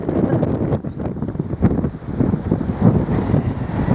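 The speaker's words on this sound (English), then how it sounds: "yeah, it's windy, okay" Strong coastal wind at Scarborough Castle buffets the microphone in steady, gusting rumbles, loud and continuous, with no voices.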